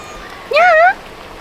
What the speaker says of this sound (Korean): 저 고양이 있거든요?